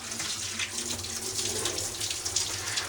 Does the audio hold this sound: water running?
yes